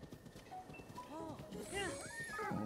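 Horse in The Legend of Zelda: Breath of the Wild (Master Mode), whinnying in clear, rising-and-falling cries over steady hoof clip-clop while galloping, close and moderately loud, with game sounds around it.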